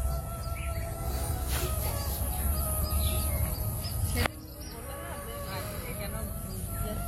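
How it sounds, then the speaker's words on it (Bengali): Birds chirp and call around a house in the morning, a steady chorus of small tweets under a person talking nearby. "কি ভালো লাগছে না সকালবেলা ঘুম থেকে উঠে পাখির এত কিসমিস ডাক"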